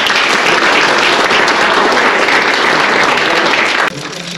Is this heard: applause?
yes